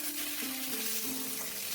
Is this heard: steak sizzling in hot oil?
yes